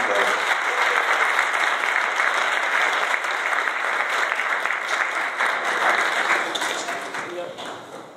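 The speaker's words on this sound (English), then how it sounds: "please put your hands together for Township Supervisor Franklin Zuccarelli" Audience applause after a township supervisor is introduced at a public talk on race, steady dense clapping from a large crowd lasting several seconds before tapering off at the end.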